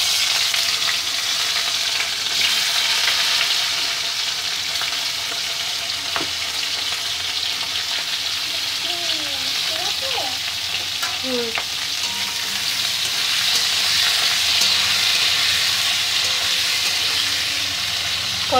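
Cubed onion and green capsicum frying in mustard oil in a kadai, a loud continuous sizzle with occasional stirring scrapes and small squeaks of the spatula against the pan.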